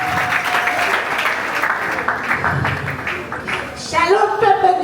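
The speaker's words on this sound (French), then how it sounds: "Est-ce qu'on va acclamer Olines pour l'encourager?" Church audience applauding to encourage a young girl at a children's gathering, a steady wash of clapping that swells again near the end, with some voices mixed in.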